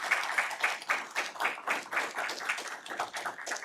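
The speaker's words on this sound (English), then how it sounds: "Please join me in a round of applause for the Congressman." Audience applause greets a Congressman taking the floor at a policy event, steady dense clapping from a nearby crowd that holds at an even level from start to finish with no talk over it.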